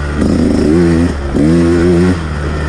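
A 2019 Husqvarna TE 150 two-stroke dirt bike engine buzzes loud and close while ridden, rising in two revving surges with a steady drone in between.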